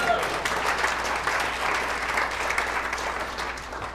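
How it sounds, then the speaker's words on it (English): A room full of club executives, staff and corporate partners claps at a special league announcement, steady, moderately distant applause with scattered cheering sustained throughout. "I'm sure they're going to give themselves a cheer."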